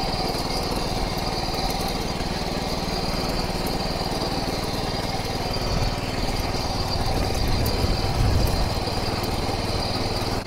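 A Dfarm mini power weeder's small engine runs steadily and loudly throughout, a continuous high buzzing drone with a slight swell near the end.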